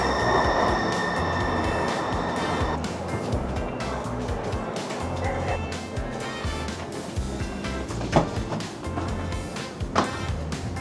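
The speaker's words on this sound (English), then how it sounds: "Train should be here any minute." A train pulls into a city transit station, its steady rumble of wheels and rolling stock filling the platform, with metallic screeches and clanks rising briefly near the end as it slows.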